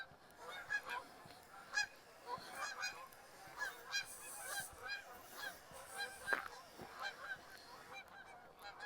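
Canada geese honking at sunset in Regina in December, a flock calling repeatedly in irregular overlapping honks at moderate distance, fairly faint over an outdoor background.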